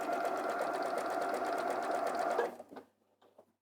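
A sewing machine runs a continuous, even stitching whir while sewing a bag kit, fairly close, then stops abruptly, leaving a few faint clicks and handling sounds.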